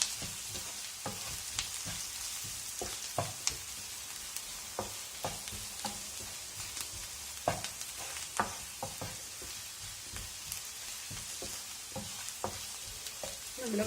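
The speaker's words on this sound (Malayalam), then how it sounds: "കാശ്മീരി ചില്ലി പൗഡർ നമുക്ക് നന്നായിട്ട് സോട്ട് ചെയ്തെടുക്കാം" Kashmiri chili powder sautés in a pan for a bread egg masala, with a steady close sizzle of frying and repeated soft scrapes of a spoon stirring throughout, without talk.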